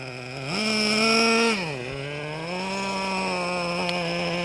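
A Traxxas Revo 3.3 nitro RC truck engine whines close up as it shifts into reverse, its buzzing pitch rising, dropping, then holding at a steady, loud drone.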